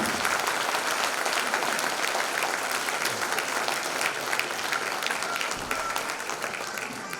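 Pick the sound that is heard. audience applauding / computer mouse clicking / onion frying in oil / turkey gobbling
audience applauding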